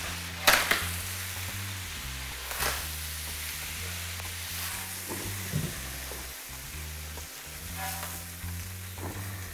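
Squid frying in very hot fat in a seafood bisque and casserole kitchen gives a steady crackling sizzle throughout, with a few louder pops and utensil clinks near the start, close and fairly loud with no talk.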